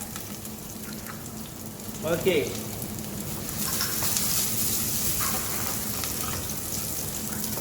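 Onions sizzle steadily in a clay cooking pot for a prawn and okra curry, a soft, even frying hiss that runs the whole time with a brief stir-like clatter and a short spoken word over it.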